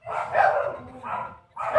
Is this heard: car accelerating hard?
no